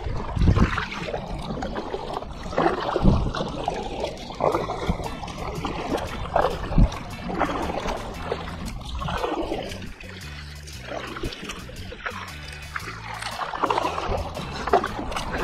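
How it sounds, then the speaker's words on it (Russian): A light Shchukar Lite 340 boat moves across water with close sloshing, splashing and trickling around the hull, the water noise rising and falling irregularly and no clear speech. "Классная лодка."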